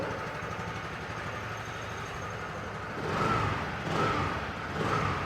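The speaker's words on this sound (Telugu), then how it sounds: "బండి అయితే స్టార్ట్ చేసుకుందాం బ్రేక్ పట్టుకొని స్టార్ట్ చేయాలి" A 2024 TVS Jupiter 110 scooter with a BS6 Phase 2 engine idles after a silent start, a soft, steady low hum close by with slight pulses of revving toward the end.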